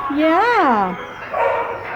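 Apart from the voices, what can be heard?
American Bulldog mix barking in shelter kennel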